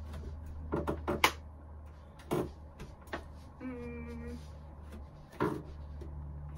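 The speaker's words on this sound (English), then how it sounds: "I love how you can hear the chair creak." A chair creaks once with a short, strained wooden groan, set among quiet knocks and shuffling movement in a room with a low background hum.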